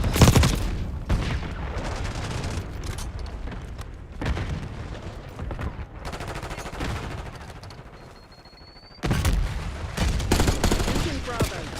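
Semtex grenade blasts and bursts of rapid gunfire in a competitive multiplayer shooter match, loud and dense, with heavy booming impacts at the start and again near the end.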